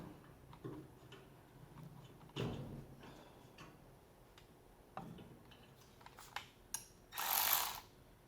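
Tool working a stuck fastener loose on a car brake light: faint scattered ticks and small ratcheting clicks spread over several seconds, with one louder rustling burst near the end and no talking.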